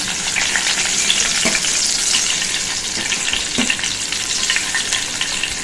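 Tinda (round gourd) sizzles as it fries in a pan, a steady close crackle and hiss with a few soft stirring scrapes and knocks.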